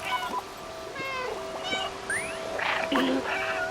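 A cat in the video game Stray meows several times in short, rising calls over a steady game background hum, fairly close and clear.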